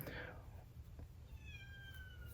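A small kitten meows once, fairly faint and slightly distant, over a low background hum; another thin, drawn-out cry follows.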